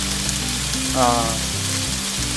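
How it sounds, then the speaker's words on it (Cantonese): Green peppers and onions stir-frying in oil in a pan for a curry chicken steak, a steady soft sizzle under a low background hum. "青椒、洋葱炒佢嘅， 我哋稍微炒香佢啦，"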